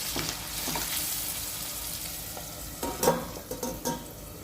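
Green chilies, curry leaves and turmeric fry with onions in a pan for a cluster bean curry, a close steady sizzle that grows busier as a spatula stirs with several sharp scrapes toward the end, no talking.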